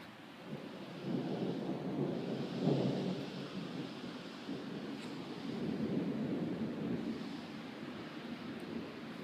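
Electrical storm in Idaho, with a deep thunder rumble rolling through steady rain and wind noise, a broad continuous wash with swells and no voices.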